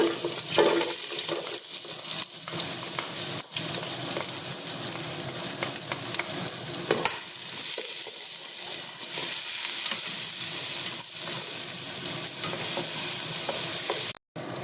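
Chopped onion sizzling in a small amount of oil in a pan for chicken marag, a steady close frying hiss with scraping stirs throughout, no talk, cutting out abruptly just before the end.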